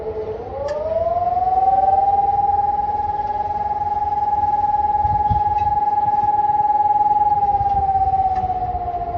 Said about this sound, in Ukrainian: Мама, це система оповіщення.